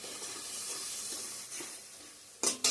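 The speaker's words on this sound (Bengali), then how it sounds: "এইখানে আমি ডিমের কারিটার মধ্যে টমেটো, লঙ্কা আর পেঁয়াজ পেস্ট দিয়ে দিছি, লবণ হলুদও দিয়ে দিছি" Egg curry with tomato, chili and onion paste, salt and turmeric frying in a pan gives a steady close sizzle with soft stirring, ending in two short, louder scraping bursts.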